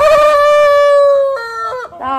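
Backyard hens and a rooster give a loud, close, drawn-out crowing call that breaks into clucks. Nothing else is audible.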